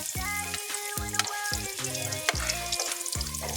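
Garlic frying in cooking oil for adobong pusit, a Filipino squid adobo, gives a steady crackling sizzle that runs continuously beneath loud background music.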